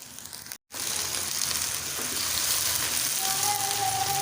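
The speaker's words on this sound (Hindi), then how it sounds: "प्याज नरम हो गए हैं और इनका कलर भी हल्का सा चेंज हो गया है। अब हम इसमें चिकन डाल देंगे।" Chicken pieces dropped into a pan of softened, lightly browned onions, setting off a loud, steady frying sizzle that swells and holds close by after a brief gap.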